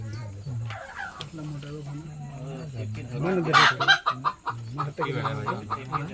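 A chicken clucks in bursts at close range during a cobra rescue, with people talking over and between the agitated calls.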